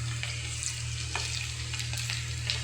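Tomatoes and green chili sauté in oil left from frying dried anchovies for nethili karuvadu thokku, giving a steady close sizzle with scattered crackles over a low, constant hum.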